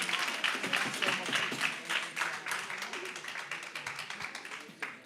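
A church congregation at a Sunday morning worship service claps for a speaker, a sustained patter of many hands with a lively, uneven rhythm that gradually thins toward the end.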